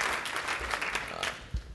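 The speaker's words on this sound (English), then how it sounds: "Give her a big round of applause." Brief burst of audience clapping at an evening celebration event, moderately loud and fading within two seconds.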